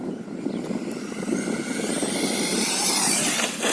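A Tekno SCT410.3 RC short course truck on a 2S setup with an 18-tooth pinion, its electric motor whining and rising steadily in pitch as it speeds past, fairly loud and continuous with no talking.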